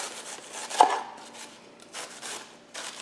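A knife slicing cabbage into thin shreds on a cutting board, with one sharp chop followed by softer scraping cuts, close and fairly quiet, with no talking.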